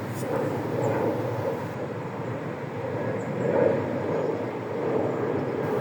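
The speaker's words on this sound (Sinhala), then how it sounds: "මේ හරිය පොඩ්ඩක් එයාපෝට් එකට ළඟ නිසා නිතරම මේ වගේ ප්ලේන්ස්" A jet airplane flies over a forest in Finland near an airport, its broad, steady roar rumbling low and continuous for several seconds, swelling slightly midway.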